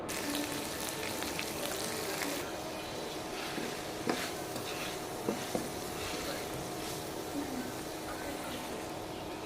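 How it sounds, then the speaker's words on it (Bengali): An egg fries in a pan with a steady, moderately loud sizzling hiss running throughout, broken by a few faint clicks and taps. "ডিমটা ভেজে নিচ্ছি"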